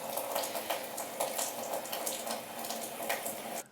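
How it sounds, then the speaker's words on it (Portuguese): Water pours steadily into a washing machine as it begins filling, a continuous rushing splash with faint rhythmic surges, moderately loud and alone without talking. "Agora parou e vai começar a encher de água."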